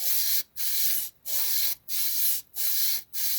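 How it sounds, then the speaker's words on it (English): Brake cleaner sprays onto an engine rod bearing from a Mini R53 in five steady hissing bursts, each about half a second long with short gaps between, close and loud. "Give some brake clean on there to clean it off."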